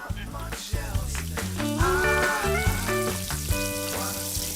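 Chopped bird's-eye chili and scallion sizzle in butter with salted egg sauce, a steady crackling fry punctuated by scraping stirs, with background music playing throughout.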